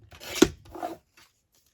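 Scissors snip a small piece off a craft journal card, a brief close rasping cut with a sharp click at its peak and a softer trailing slide.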